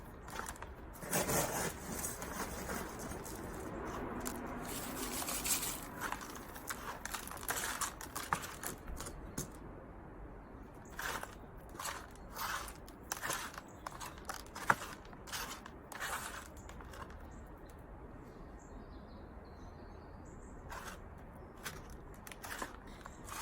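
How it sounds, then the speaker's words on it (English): Compost and gravel being stirred together by hand in a bowl for planting paperwhite bulbs, a steady gritty scraping and crunching with scattered sharper clicks of stones, fairly close and continuous. "So I'm just going to take that, mix it with some gravel."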